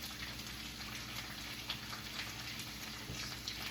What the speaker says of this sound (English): It's bubbling nice and well too